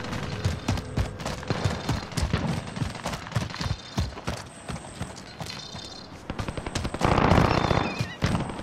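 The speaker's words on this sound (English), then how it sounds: "Assault rifle." Assault rifle fire in the Call of Duty: Warzone video game crackles in rapid, repeated bursts, with shots close and steady throughout amid other battle noise.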